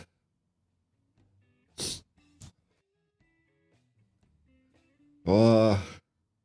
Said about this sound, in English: Hang on, I've got to sneeze.